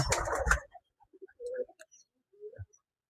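Rajshahi Giribaj pigeons, a big-moustached breed, give soft, scattered coos and faint rustles in a quiet loft after a brief burst of noise at the start.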